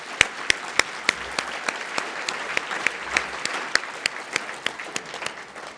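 An audience at a charity fundraiser claps for kindergarten children and donors: moderate applause with distinct sharp individual claps standing out, heard from nearby without cheering.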